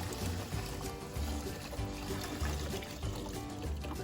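Water is poured out of a turtle tank in repeated gurgling pulses, a faint, rhythmic sloshing and trickling close by.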